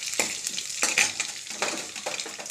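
Curry leaves and green chillies sizzle in a hot oil tempering, with a close, bright crackle broken by several quick stirring scrapes across the pan.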